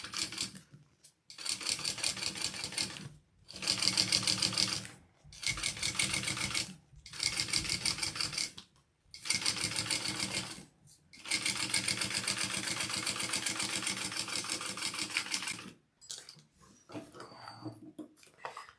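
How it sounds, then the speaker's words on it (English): A sewing machine top-stitches a bag in several runs of rapid, steady stitching, each burst lasting a few seconds and separated by short pauses, ending with one long continuous run before it stops. "you're going to top stitch along this top piece now"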